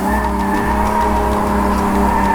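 A car drifts with loud, steady tire squeal and skidding under a droning engine. The sound stays close and unbroken throughout, with no voices.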